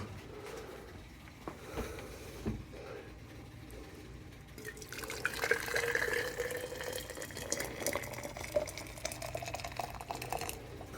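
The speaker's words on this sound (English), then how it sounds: "So if I pour that water in here, that thermostat should open up." Hot water is poured over a car thermostat to test whether it opens, a steady watery splashing and trickling that swells midway and runs on with faint drips, with no talking.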